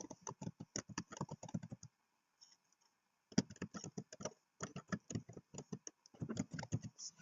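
Rapid clattering keystrokes on a computer keyboard come close and clear in quick bursts, pausing for about a second and a half before resuming, with a mistyped entry being retyped.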